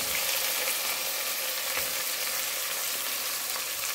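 About four chopped onions frying in oil for Ambur chicken biryani, cooked toward golden; a dense, even sizzle runs continuously at close range with no talk.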